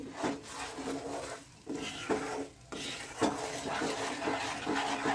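Amla pickle being stirred with Kashmiri red chilli powder, salt and sugar, giving soft repeated scraping and rubbing strokes in a bowl, close and fairly quiet, with brief pauses between stirs and no talk.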